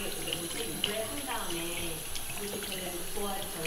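Tap water runs steadily over hands being rinsed of clay mud after a celadon pottery-making session in South Jeolla, Korea, a continuous close splashing hiss with faint voices in the background.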